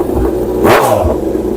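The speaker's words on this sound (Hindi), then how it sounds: "शायद वीडियो में आपके बैकफायर आ चुके होंगे, तो बैकफायर से ये पता लगता है कि इंजन बहुत पावरफुल है" Revving superbike with an aftermarket replica exhaust, one loud rising-and-falling rev near the middle with a sharp pop like a backfire, over a steady rumbling engine and noisy outdoor background.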